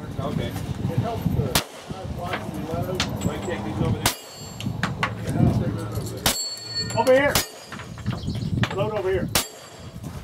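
Guns fire at targets at a cowboy action shooting match: about five sharp, loud reports come spaced a second or two apart, some followed by metallic ringing, while people talk nearby between the shots.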